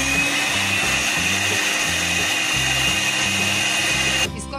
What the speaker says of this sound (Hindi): अब इसको हम ब्लेंड कर लेंगे।